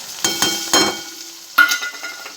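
Boiled potatoes drop into a pan and fry with a few sharp bursts of sizzling and scraping stirs, fading between strokes to a quieter hiss, close up and with no talking.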